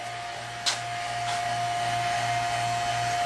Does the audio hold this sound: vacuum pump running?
yes